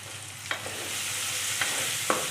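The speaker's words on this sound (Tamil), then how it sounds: "இந்த பக்கம் வெங்காய தக்காளி வதங்கிட்டு இருக்கு" Onions and tomatoes sauté in a pan for a fish curry, a steady soft frying hiss broken by a few scattered scraping stirs of the spoon, with no talking.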